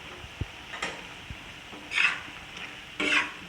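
Yogurt stirred into spiced goat liver (tawa kaleji) in a pan, giving two short scraping, sloshing bursts over a faint sizzle, with a couple of light knocks before them.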